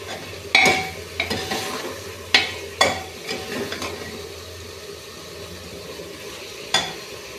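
Rice for salted namkeen chawal is roasted in a pan, heard as a low sizzle under several sharp scrapes and knocks of a spoon against the pan at irregular intervals.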